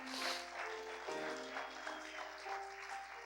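A congregation claps during a Spanish-language church service, the applause soft and steady throughout, layered under sustained musical tones from instruments playing along.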